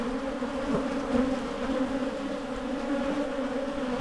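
Honey bees hum at an open top bar hive, a dense, steady drone close by and fairly loud that keeps going the whole time, no talking.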